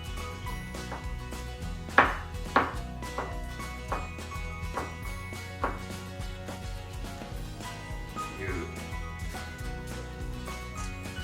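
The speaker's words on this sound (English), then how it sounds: "Beautiful cut right there. Equal in size and we get the perfect julienne that way." Knife chopping vegetables into julienne on a board, a series of soft irregular thumps with a few sharper louder strikes near the start, close by with quiet background.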